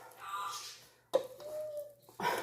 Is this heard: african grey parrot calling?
yes